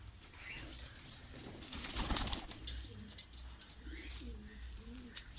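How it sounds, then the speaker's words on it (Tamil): Pigeons kept in a backyard cage coo softly in low, rolling phrases, with brief higher chirps and a rustle of wings nearby against faint outdoor background noise. "நம்ம தொடால் புறாக்களை பார்ப்போம்"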